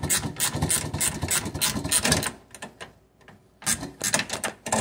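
Parking brake adjustment nut being tightened on a Bricklin, a close mechanical ratcheting and clicking that runs in quick bursts, pauses briefly, then resumes.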